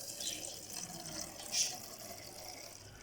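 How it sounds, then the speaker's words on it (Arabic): Water runs steadily into a container to make a sugar-water mix for keeping roses fresh. The pour is a soft, continuous wash, faint and fairly even throughout, with a brief surge midway and no voices. "خلاص كده هنحط بقى المية"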